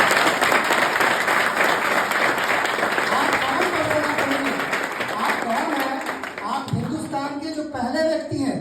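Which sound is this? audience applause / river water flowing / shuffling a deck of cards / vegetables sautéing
audience applause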